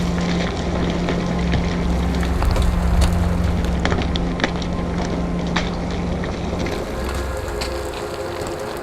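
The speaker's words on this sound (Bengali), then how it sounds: "ঝড়ো হাওয়া বইছে এবং বৃষ্টিও হচ্ছে" Stormy wind with rain on a mountain road where a jeep is stuck: a loud, continuous roaring rumble with gusting swells and buffeting across the whole stretch, no voices.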